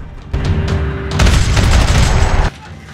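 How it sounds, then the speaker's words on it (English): Gunfire rattles across a parking lot in the video game Max Payne 3, a dense burst of rapid shots and booms that swells for about two seconds and then cuts off sharply. "Another parking lot rattling with gunfire."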